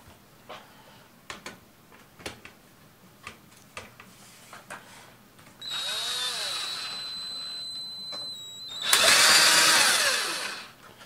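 A power screwdriver drives a screw in two loud, sustained whirring bursts with a rising-falling pitch, after a series of scattered clicks and taps from handling, with no talk.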